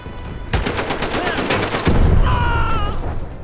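WW2 weapon gunfire in the Medal of Honor: Above and Beyond VR game, a loud, rapid automatic burst of evenly spaced shots followed by heavier blasts and ringing, clattering debris.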